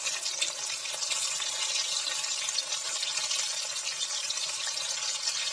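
Banana fritters (kola chop) fry in hot oil, giving a dense, steady hiss and crackle of sizzling, close and continuous with no talk over it.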